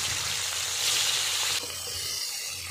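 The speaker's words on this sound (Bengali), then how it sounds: "এরপরে আমি মাথাগুলো ভালো করে ভেজে নেব।" Rohu fish heads frying in hot oil give a loud, steady sizzle close by; it grows a little louder midway, then settles into a softer crackle.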